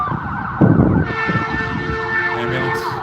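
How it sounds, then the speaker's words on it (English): An ambulance siren wails steadily nearby with a sustained rising and falling tone, accompanied by traffic rumble and a brief low thump near the start. "Ambulance."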